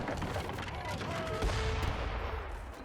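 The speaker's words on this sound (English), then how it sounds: "These mortars are putting some good work, actually." Mortars fire in an Age of Empires III match, a short burst of muffled, distant booms and battle rumble that continues steadily under the game noise.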